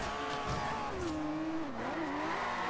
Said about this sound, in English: That was a nice drift.